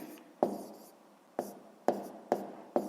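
A pen writes an answer on paper during a sixth-grade math exercise, making five short, close scratching strokes spaced unevenly through a quiet room.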